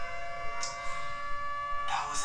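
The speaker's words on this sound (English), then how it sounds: "that was that siren." A civil defense siren wails steadily and loudly, its held tones sounding throughout under bursts of other noise.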